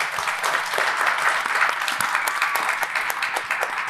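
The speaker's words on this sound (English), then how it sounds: "Can you guys please give them another big round of applause?" An audience at an artists' panel discussion on identity claps steadily, a sustained wash of applause from a seated crowd throughout.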